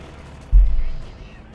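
An anti-tank gun fires and its shell explodes in a Company of Heroes 2 battle, giving one low heavy thump that rumbles and fades over about a second against quiet battlefield ambience.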